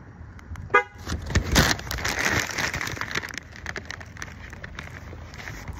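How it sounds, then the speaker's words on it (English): A locking car gives a short horn chirp outdoors at night, then passing traffic and a steady wash of ambient noise follow with no talking. "I don't want to lock my car because it's going to be so loud"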